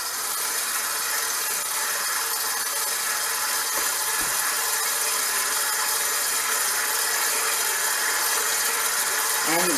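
A KitchenAid stand mixer on a low speed kneads honey wheat bread dough, giving a steady, fairly loud mechanical whir that holds throughout.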